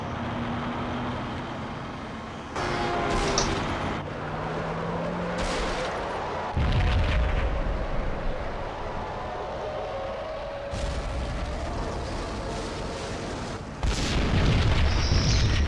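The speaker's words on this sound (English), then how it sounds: "Another bomb exploded inside the closest slum building." Several bombs going off inside a slum building in Max Payne, deep booming blasts at irregular intervals with rumbling debris and noisy aftermath between them, loud and close, no talk.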